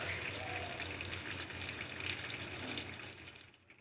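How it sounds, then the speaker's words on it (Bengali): Rohu fish pieces fry in hot oil for a poppy-seed curry, giving a steady broadband sizzle with watery crackle throughout, fading slightly near the end, no voices. "মাছগুলো ভাজা হওয়ার জন্যে আমরা আবার উল্টে দিলাম"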